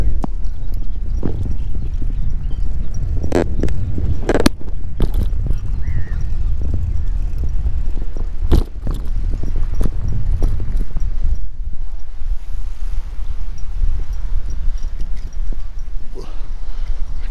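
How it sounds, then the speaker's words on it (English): A horse on a towpath beside a Belgian canal, hauling barges, its hooves clip-clopping in a steady rhythm over continuous outdoor wind and movement noise, with a few sharper knocks. "Notice the horse along the canal here, pulling barges."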